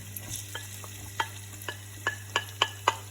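Cut onion pieces and minced garlic frying in heated oil, a soft quiet sizzle over a low hum, punctuated by a series of sharp spoon taps and scrapes against the pan that grow more frequent toward the end.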